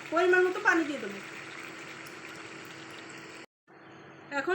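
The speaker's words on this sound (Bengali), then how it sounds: "পরিমাণ মতো পানি দিয়ে দেবো।" Water is poured into a pan of chicken and jackfruit curry, making a soft, steady hiss and splash up close after a brief voice at the start.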